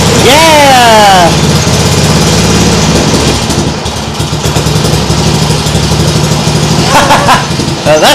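A Nibbi G619 walk-behind tractor engine revs hard with the throttle, pitch sweeping down then settling into a loud, steady, close running drone before rising again near the end; a voice is faintly audible over it.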